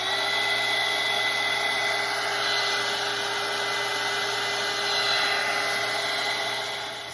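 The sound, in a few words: hair dryer drying a watercolor painting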